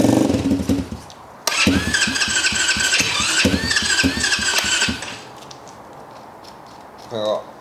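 A Thumpstar Road Ripper 125 road-legal pit bike engine runs loudly and steadily for several seconds with a ragged, revving drone, then cuts out to quiet, followed by a brief mechanical rattle.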